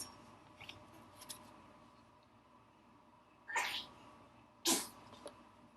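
A quiet room with two short, sharp sneezes close by, the second louder than the first, with faint rustling between them.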